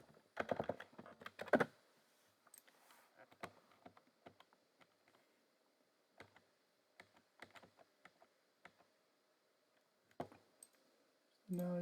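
Computer keyboard being typed on to enter a Linux terminal command, with scattered quiet clicks and short bursts of keystrokes, a few louder clusters, and long pauses in between.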